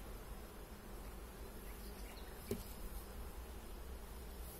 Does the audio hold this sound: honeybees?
yes